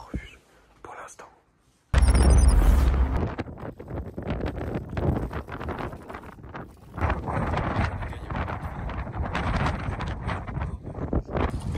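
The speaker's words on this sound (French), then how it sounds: "il y a énormément de vent" Strong winter mountain wind at a refuge below the Pic d'Ayous, loud buffeting roar against the microphone that surges and swells continuously, with a person murmuring quietly underneath at times.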